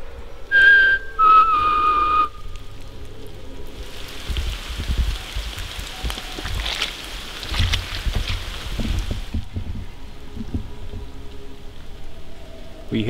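A person whistles two short loud tones to call out in Grovely Wood, followed by a long stretch of soft rain-like pattering and faint rustling with distant quiet sounds.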